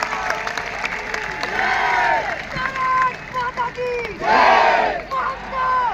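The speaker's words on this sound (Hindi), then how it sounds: "आइए जयपुर एक बार जोरदार तालियों से अभिवादन करें वीर योद्धाओं का।" A large stadium crowd in Jaipur cheers and applauds in loud, surging waves of shouting and clapping, with a voice over a public address system among the roar.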